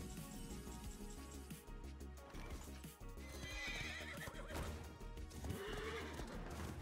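A horse neighs and whinnies amid clip-clopping hooves, a game sound effect from Hearthstone, fairly quiet and set in a busy mix of other effects and music-like tones.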